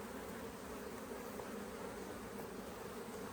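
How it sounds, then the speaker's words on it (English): Dense, continuous buzzing of a strong honey bee hive, a steady close drone of many bees with no pauses or voices. "Oh, these bees are so strong."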